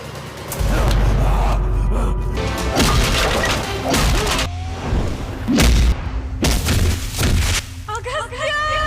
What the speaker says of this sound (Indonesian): di tengah baku tembak yang masih berlangsung, PJ melihat seorang bocil